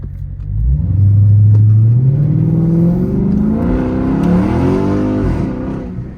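A Chrysler 300 SRT 392 drives off, its engine note rising through a loud, sweeping acceleration, easing, then climbing again before fading slightly at the end, with no talk over it.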